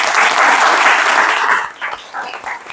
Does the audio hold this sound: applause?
yes